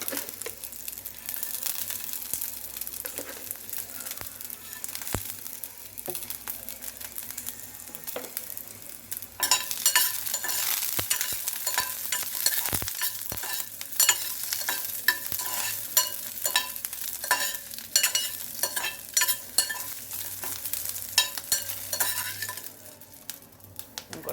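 Cumin seeds frying in a pan for a village-style cucumber chutney, with soft sizzling under repeated scraping and stirring of a utensil against the pan, growing busier and louder partway through.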